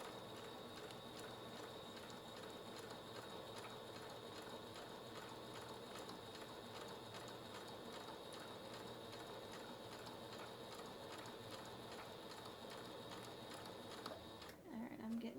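A sewing machine stitches a cross-stitch project bag in one continuous close mechanical whir with rapid ticking, stopping near the end.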